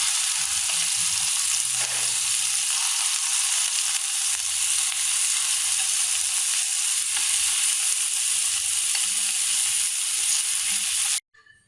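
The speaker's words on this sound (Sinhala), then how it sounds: "ඊට පස්සේ මාළු කෑලි ටික මේකට දාගෙන අපි පොඩ්ඩක් මේක සීල් කරගමු" Fish pieces sear in a hot pan, giving a loud, steady sizzle and crackle that runs without a break, with a few soft stirring scrapes, then cuts off abruptly near the end.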